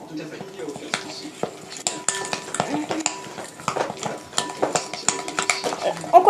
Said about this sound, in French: On continue de mélanger et on met encore un peu de farine.